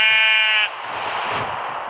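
A sheep in the video game Minecraft gives a single loud, nasal electronic bleat that breaks off partway, followed by a lingering hiss of background noise.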